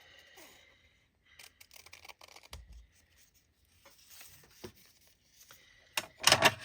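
Scissors cutting a paper label, a few short, sparse snips and crinkles up close in a quiet room, the last one the loudest.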